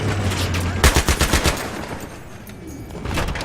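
Rapid automatic gunfire from a tank-mounted machine gun in Battlefield 3, a loud burst of evenly spaced shots lasting under a second before fading into background noise, with a voice talking over the game.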